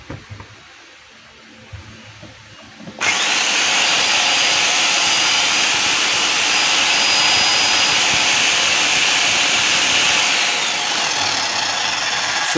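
A DeWalt D25899 10-kilo jack hammer starts up and runs steadily at loud, continuous full power for about ten seconds before cutting off, with no talking over it.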